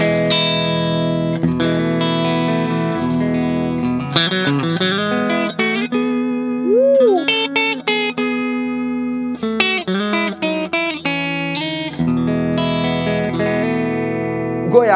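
A Fena Telecaster electric guitar on its middle pickup with reverb switched off plays sustained clean chords and single-note runs with a string bend, loud and close, no talking.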